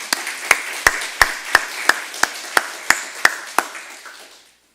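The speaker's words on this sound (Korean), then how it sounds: "학생들에서 격려하는 박수 한번 하겠습니다." Church congregation at a special evening service clapping together: dense, steady applause with sharp periodic peaks, fairly close, fading out at the end with no talk over it.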